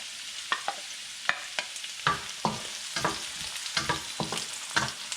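Ginger and garlic fry in a pan, crackling quietly with sharp intermittent pops and spatula scrapes spaced through the stretch, close but soft, with no talking.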